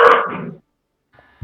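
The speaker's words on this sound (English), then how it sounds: "a loud dog." A loud dog bark bursts out close at the start and trails off over half a second, followed by silence and a couple of faint small knocks near the end.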